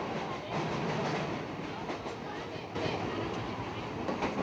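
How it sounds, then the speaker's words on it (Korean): A Jakarta commoner commuter train rolls along with its doors left open, giving a steady, fairly quiet rumble of wheels and carriage noise with faint rhythmic clatter throughout. "문이 열려진 채로 운행하는 것은 인도네시아의 서민 기차의 특징이었다."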